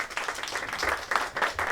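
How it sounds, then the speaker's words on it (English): Audience clapping at an internship reception, a short burst of fairly close, dense applause that holds steady throughout. "I just want us to give them a round of applause for a final time."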